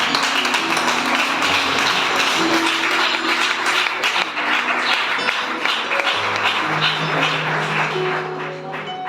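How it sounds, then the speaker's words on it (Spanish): A church congregation claps steadily over music during a sermon for several seconds, dense and loud, fading slightly at the end. "Aplaudan al Señor un poco"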